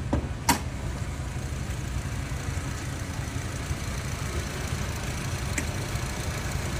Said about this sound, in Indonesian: Nih, suara mesin, guys.